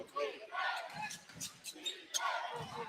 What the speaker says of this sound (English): This crowd making a little noise.